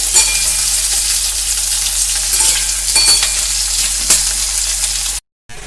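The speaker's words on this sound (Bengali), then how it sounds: "খুব বেশি কিন্তু ভাজবো না, হালকা বাদামি করে সুন্দর করে ভেজে নেব মিডিয়াম হিটে।" Onions fry in a pan over medium heat with a steady, loud, close sizzle and a few stirring scrapes, cutting out briefly at the end; nobody speaks.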